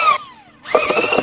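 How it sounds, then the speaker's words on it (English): Power planer set to maximum depth shaving down a wooden wall stud, a loud high-pitched whine that dips and spins down, then bites back in with a rough, buzzing cut. "I'm just going to use a planer set to the maximum depth. Shave down that stud."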